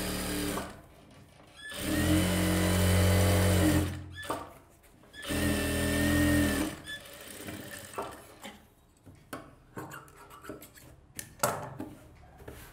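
Sewing machine stitching a silk skirt for a one-year-old baby, two loud whirring runs of about two seconds each, then quieter handling and fabric rustles.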